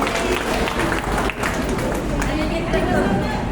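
Broad, dense applause from an audience at a family 60th birthday celebration, steady and crowded throughout with a brief dip partway, mixed with murmuring voices.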